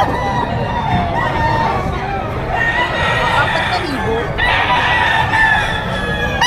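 Roosters crow repeatedly at a chicken market in Padre Garcia, Batangas, loud overlapping calls with clucking and a babble of people talking throughout.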